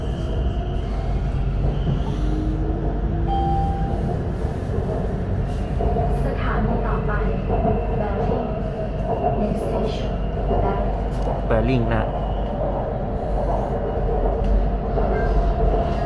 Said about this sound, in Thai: เสียงรถไฟฟ้าวิ่ง